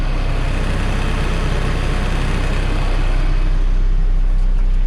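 A 2013 Case 590SN 4x4 backhoe loader with an extendable hoe runs at a steady idle outdoors, a loud, continuous low diesel rumble with no pauses and no voices.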